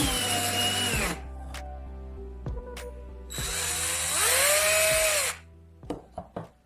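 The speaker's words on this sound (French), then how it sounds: "Allumez la perceuse à basse vitesse et l'isolation se séparera facilement du fil." An electric drill whirs at low speed while stripping insulation from thick cable clamped in its chuck, running in two close, steady bursts with a brief pause between and a few sharp clicks and knocks at the end.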